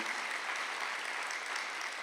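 A church congregation applauds during a Sunday worship sermon, a steady, dense wash of clapping that holds evenly throughout without any voice over it.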